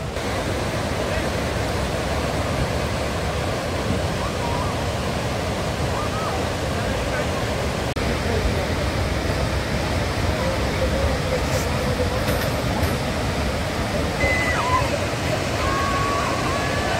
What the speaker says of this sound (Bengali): এখানে দেখো একবার জলের ফ্লোটা দেখো কীভাবে যাচ্ছে